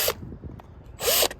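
A power drill with a larger bit removes a burr from the inside of a part in two short, close whirring bursts separated by a brief pause.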